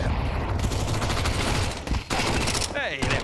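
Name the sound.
Mac 10 gunfire in Counter-Strike video game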